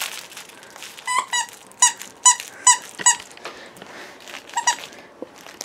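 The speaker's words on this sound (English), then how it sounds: "It's got a squeaker." A squeaker inside a plush fruit-and-vegetable-stand pet toy squeezed repeatedly, giving a run of about eight sharp, close squeaks in uneven bursts, with faint crinkling between them.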